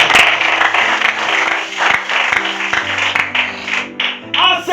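A church congregation at a tabernacle in Kinshasa applauds loudly and continuously, clapping mixed with crowd voices and some musical tones.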